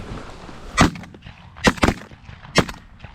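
Shotgun blasts during a goose hunt in an open field, about three or four sharp reports spread over a few seconds, fairly distant and muffled against quiet outdoor background.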